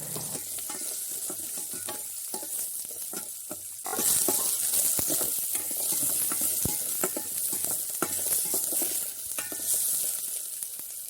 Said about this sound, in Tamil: சின்ன வெங்காயம் பெரிய வெங்காயம் போட்டு நல்லா வதக்கிறது கொள்வோம்